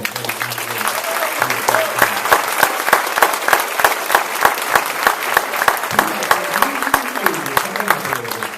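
Audience applause at a fifth grade promotion ceremony at Bingham Farms, a steady sustained round of clapping from a crowd with sharp individual claps standing out, and a voice talking faintly underneath.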